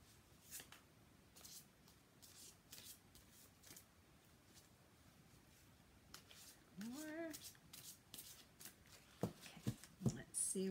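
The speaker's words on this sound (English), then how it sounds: "let me go ahead and get started shuffling these cards" Tarot cards being shuffled by hand, giving a series of quick, soft riffling bursts at an irregular pace. The bursts grow a little louder and busier toward the end, with a few small clicks and rustles in between.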